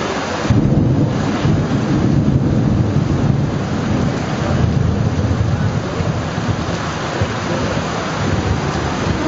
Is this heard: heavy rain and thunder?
yes